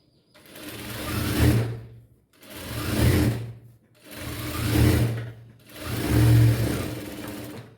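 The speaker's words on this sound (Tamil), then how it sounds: "இது நல்லா இழுத்து வச்சு படிமான தையல் 2 சைடுக்கும் போட்டுக்கோங்க" A sewing machine stitches a blouse in four separate bursts of whirring, each run lasting about one to two seconds with brief pauses between, close up and without talk.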